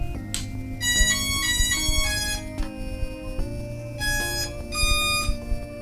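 Shrill electronic tones and beeping pitches rise and switch over a low mechanical whir from a Hubsan Zino drone, fairly close, with no one talking.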